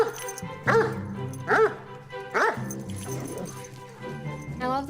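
A very large dog gives a series of deep, whining barks and whimpers, about four separate vocal bursts spaced roughly a second apart, close and fairly loud.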